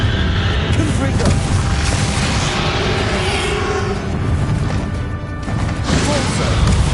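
A Confringo fire spell explodes during a boss battle in the Hogwarts Legacy video game, a loud dense blast within constant booming, crashing combat noise that barely lets up.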